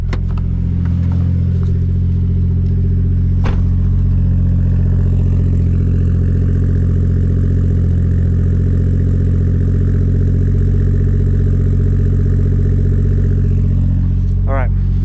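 A Toyota 1JZ engine with a custom exhaust idles steadily, a deep continuous rumble held for the whole fifteen seconds, loud and close, with brief faint sounds around it.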